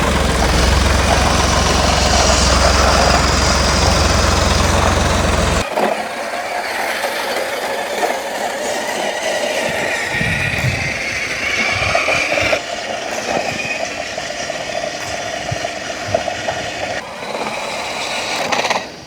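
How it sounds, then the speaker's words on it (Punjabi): A small homemade remote-controlled tractor engine runs loudly and steadily nearby, its low rumble dropping off after a few seconds, then a lighter rattling motor hum continues. "ਆ ਦੇਖੋ ਬਈ ਟਰੈਕਟਰ ਤੁਸੀਂ ਚੱਲਦਾ ਦੇਖ ਸਕਦੇ ਹੋ"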